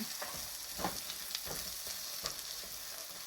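Salted eggplant slices fry steadily in a pan with a constant close sizzle, punctuated by occasional soft stirring clicks.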